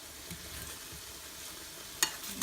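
Banana fritters frying in hot oil give a steady, quiet sizzle with faint crackles throughout, and a sharper pop near the end.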